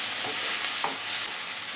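Curry leaves hit chopped onions frying in hot oil for mutton biryani, producing a loud, dense sizzle and crackle while a spoon stirs and scrapes through the pan.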